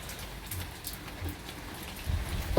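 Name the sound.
rain falling outside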